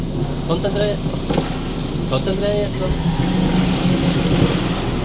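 A car drives along with a steady engine and road drone close up inside the cabin, while voices talk over it.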